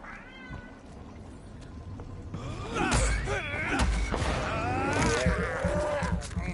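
Cats in the video game Vampyr meow and yowl repeatedly, several drawn-out, wavering cries over a soft background, growing louder midway, with a person talking intermittently.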